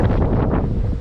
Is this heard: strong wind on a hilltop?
yes